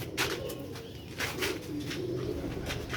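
Sialkoti black-faced pigeons cooing in repeated soft, throaty bursts, close and fairly loud, with several coos overlapping over about three seconds.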